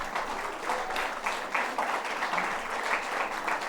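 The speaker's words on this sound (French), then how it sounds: "Attendez avant d'applaudir, hein." A church congregation at a Sunday gathering breaks into applause, a dense, steady wash of many hands clapping together in a large room, lasting throughout without pause.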